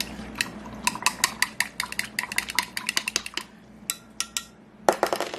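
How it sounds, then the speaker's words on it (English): A spoon stirs a pizza dough mixture of warm water and yeast in a bowl, clinking repeatedly against the sides in a quick, irregular rhythm, close and fairly loud, with no talking. "Stir this up a little bit."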